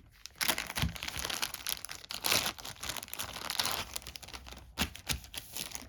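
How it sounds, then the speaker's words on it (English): Plastic baggie full of game cards for a tower-on-fire board game being handled close up, with steady crinkling and rustling broken by a few louder crackles, and no voices. "Then we got another baggie with a whole bunch of cards inside them."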